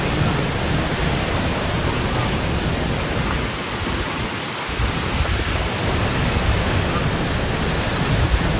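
Floodwater rushes and overflows during a Boland storm in a loud, unbroken roar of churning water that fills the whole stretch, with no voices.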